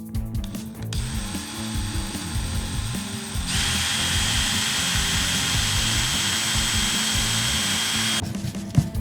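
A power drill whirs steadily while driving screws to mount 5.5-inch bronze hardware onto a wooden cabinet stained dark walnut brown, the motor pitch rising partway through and running continuously before a brief click at the end.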